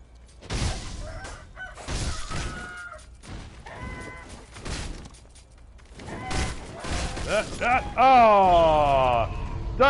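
Chickens in the video game Sekiro cluck and squawk in bursts among clanking game sounds, building to a loud, rising crow-like cry near the end, with a voice talking at points.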